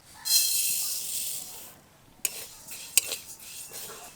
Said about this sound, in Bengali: মুগ ডালটা এখন শুকনো কড়াইতে ভেজে নেব।